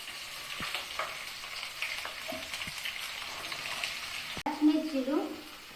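Oil sizzling in a pan with cumin seeds and onions for an egg masala curry, a steady hiss under a spoken voice, followed by louder crackling and stirring as the onions go in.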